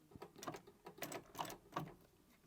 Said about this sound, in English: So does this sewing machine pull the leather through as it stitches?